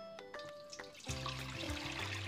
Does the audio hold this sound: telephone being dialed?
no